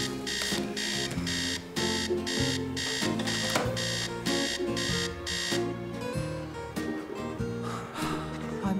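An alarm clock rings in loud, regular bursts of electronic beeping that repeat steadily over a busy, tonal background, with no voices.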